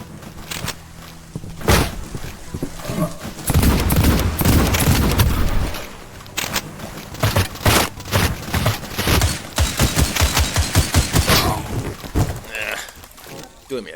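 Rapid gunfire in the video game Cultic, dense bursts of close, loud shots and booms with rattling automatic volleys, alongside a person talking over the action.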